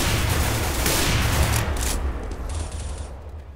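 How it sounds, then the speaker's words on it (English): Steady stream of suppressed gunfire in the shooter Counter-Strike: Global Offensive, muffled rapid shots running continuously and dense for several seconds before thinning out. "I love the sound of the suppressors on this"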